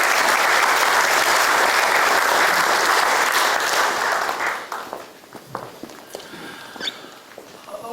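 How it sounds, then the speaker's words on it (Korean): Loud, sustained applause from a gathered audience welcomes guests at a Presbyterian men's association prayer breakfast, then tapers off into a few scattered claps and quiet room noise. "여러분 인사할 때 뜨겁게 박수로 격려해 주시기 부탁드리겠습니다."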